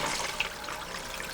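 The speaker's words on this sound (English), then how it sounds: "Gives us a nice, good flow of water." Steady rush of water running through a gold sluice box after a pump is turned up halfway, an even, continuous wash with no voices.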